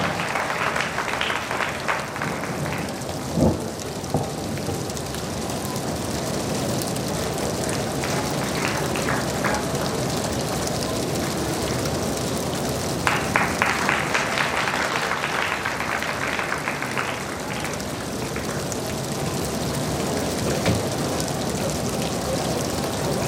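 Sustained applause from a crowd, a dense steady patter of clapping that swells briefly in places and continues throughout without speech.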